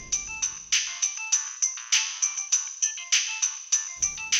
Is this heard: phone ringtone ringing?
yes